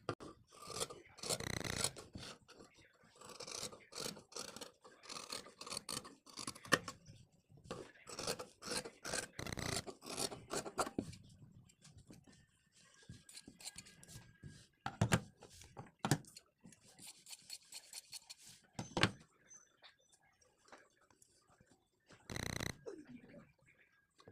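Kurti fabric being cut by hand at close range, heard as repeated rasping strokes in irregular clusters separated by short pauses, mostly quiet between the bursts.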